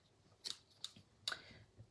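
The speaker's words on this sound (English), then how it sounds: "the key is when fussy cutting just to move the paper rather than your scissors" Scissors snipping while fussy cutting paper for handmade artist trading cards: three or four quiet, crisp snips at uneven spacing, close by, with no talk.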